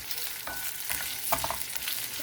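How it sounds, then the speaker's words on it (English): Onion, garlic and green chili fry in a pan with a close, steady sizzle, broken by scraping stirs and small crackles throughout. "So first we'll start with onion, garlic, green chili. Fry it"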